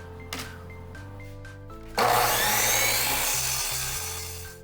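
A tube for an LED pixel lightsaber blade being cut with a power tool: a loud, steady, whining buzz that starts abruptly and slowly fades, preceded by a few quieter knocks.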